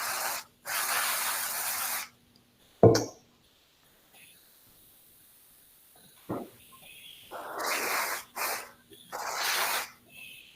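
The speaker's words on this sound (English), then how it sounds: "I'm going to cheat a little bit here and use some cold spray and harden it up" A can of cold spray hisses in several long bursts onto freshly poured paraffin wax, hardening it for fantasy cake flowers, with short quiet gaps and a sharp clatter between sprays.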